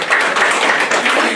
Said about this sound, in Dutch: een applaus voor u